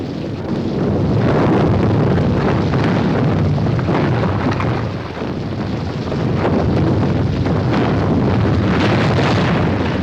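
A loose boulder crashes down a rockfall in a Thunderbirds puppet episode, heard as a loud, continuous rumbling roar that barely eases across the whole stretch.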